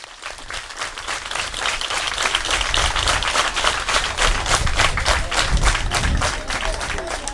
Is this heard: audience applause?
yes